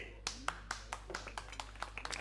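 A few scattered hand claps from a small audience welcoming a troubadour singer, about a dozen sparse, uneven claps over a steady low electrical hum, with talk mixed in.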